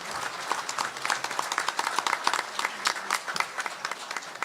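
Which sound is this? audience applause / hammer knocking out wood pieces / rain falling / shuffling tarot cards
audience applause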